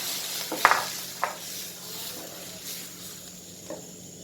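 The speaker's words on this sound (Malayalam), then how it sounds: "ഇനി നമ്മൾ ഒഴിക്കുന്നത് പുളിവെള്ളമാണ്" Tamarind water poured into frying spices for a Kerala-style curd chilli pickle gravy, with a soft, fairly quiet sizzle and a few sharp clinks of a utensil against the pan.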